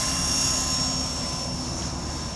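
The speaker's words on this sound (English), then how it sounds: "It's a good helicopter, like 50 quid for this." A 50-pound toy helicopter flies close by with a steady, continuous rotor and motor whir that holds at even loudness for the whole stretch, with no voices over it.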